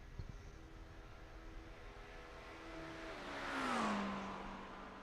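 A McLaren GT3 race car in the iRacing game at Daytona passes by with a steady engine drone that swells and pitches downward around the tri-oval, then fades, with no talk.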